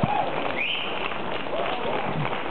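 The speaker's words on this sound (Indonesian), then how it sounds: "Saya boleh minta tepuk tangannya dulu untuk pasangan calon kita." An audience applauds a candidate pair at a public debate for the 2018 Makassar regional election. A steady, moderately loud wash of clapping lasts throughout, with voices talking over it.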